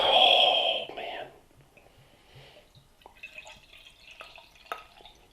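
Dark bourbon barrel aged porter poured thick and syrupy from a bottle into a glass: a loud opening gush, then soft gurgles and drips with faint fizzing and a few small clinks.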